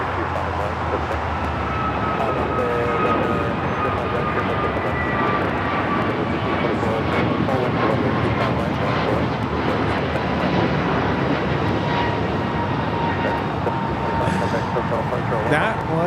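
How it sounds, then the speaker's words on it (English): An American Airlines Airbus A321neo takes off at LAX, a loud, steady jet engine roar with a rising whine that holds throughout, and a voice briefly audible underneath. "That was American Airlines Flight 1725 taking off to Honolulu on the 321neo."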